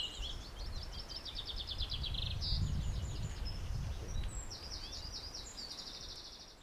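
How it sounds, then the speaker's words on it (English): Woodland birds sing at Smardale nature reserve, with repeated high trilling phrases and chirps carrying over a soft outdoor background, moderately distant and faint. "So I hope our listeners can hear all the bird song going on"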